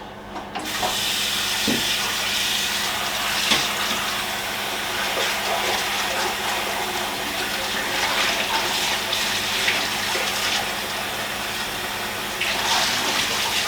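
Water runs steadily from a kitchen tap while dishes are washed during cake making, a constant loud hiss with occasional clinks and splashes throughout, no voices.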